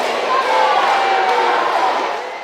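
Thunderous crowd applause welcoming Captain Traoré, president of Burkina Faso, a dense steady roar of clapping and cheering that swells slightly and then eases, with no clear speech.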